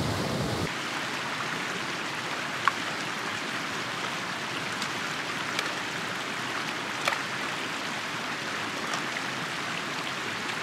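Steady broadband rush of a clear mountain stream on the Howgill Fells in the Yorkshire Dales, flowing continuously at moderate level with no talk over it.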